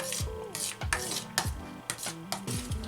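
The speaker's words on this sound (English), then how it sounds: "So we'll stir it up nicely." Seasoned chicken pieces are stirred in a pan with salt and black pepper, producing rhythmic close scrapes and knocks of a utensil against metal, each stroke distinct, with a faint sizzle underneath.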